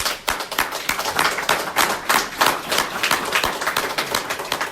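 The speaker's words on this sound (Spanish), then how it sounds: "¿Por qué no le damos un aplauso de gloria a Dios?" Church congregation clapping in praise, a loud, close burst of many hands with an uneven rhythm, continuing steadily with no talk over it.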